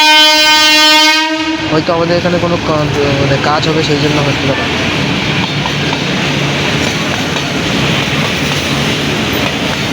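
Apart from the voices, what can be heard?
electric locomotive hauling goods train with banker engine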